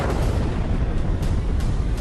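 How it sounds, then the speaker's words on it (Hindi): An air strike explosion near the Kyiv TV tower, heard as a continuous deep, loud rumbling roar with low booming energy throughout and a few faint sharper bursts, no voices. "टीवी टावर के पास हुए धमाके के बाद पूरा आसमान काले धुएं से भर गया"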